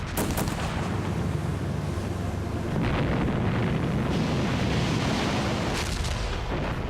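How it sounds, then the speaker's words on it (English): World War II Normandy landing combat, with German artillery and machine guns firing: a dense, continuous roar of heavy bursts and rumbling blasts, loud and close, with wind buffeting over it. "German artillery and machine guns opened fire"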